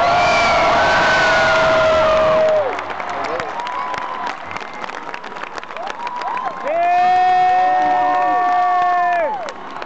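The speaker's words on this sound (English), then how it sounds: "Everybody give a big cheering round of applause for Fernando!" Large stadium concert crowd at Foro Sol in Mexico City cheering and applauding, loud sustained roar and clapping, with amplified voices and music tones rising over it in bursts.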